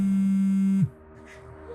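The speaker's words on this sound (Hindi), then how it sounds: "फोन किसका बज रहा है?" A mobile phone tone rings in a room, one loud steady electronic tone holding close for under a second, then cutting off abruptly into quiet background with faint noise.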